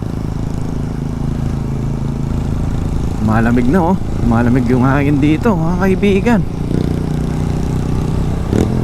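A Yamaha PG-1 motorcycle engine labours up a hill in a steady low drone, heard beneath someone talking close by as the ride continues outdoors.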